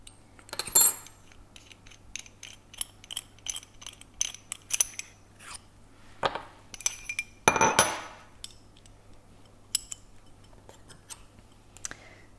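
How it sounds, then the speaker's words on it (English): A metal shaft key working loose the rotor of a laboratory homogeniser, heard as scattered close metallic clicks, taps and clinks with a couple of louder scraping clatters over a faint steady hum. "Use the shaft key to unscrew"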